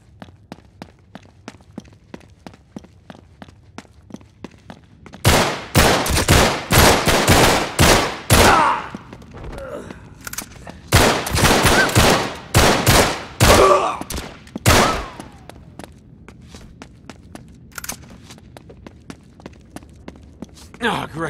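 Bursts of rapid gunfire in Uncharted 3 Remastered, with loud clustered volleys and machine-gun rattles in the middle section between quieter stretches, alongside footsteps, movement and shouting voices.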